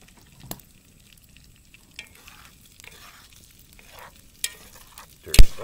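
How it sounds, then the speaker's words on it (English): Egg and cheese going into a pan of turkey sausage over an open fire, stirred with a few scraping taps amid soft sizzling and outdoor quiet, ending in one loud clatter. "so now we're going to add our egg"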